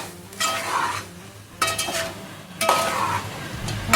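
Chicken fry with coriander and curry leaves stirred in a pan after the stove is switched off, three bursts of spoon scraping and clinking against metal with a soft sizzle underneath, close and fairly loud.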